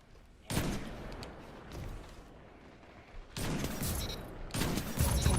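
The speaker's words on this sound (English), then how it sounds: "Fusion rifle boys." Fusion rifle firing in a video game, several loud charged bursts of gunfire separated by quieter stretches, close and heavy.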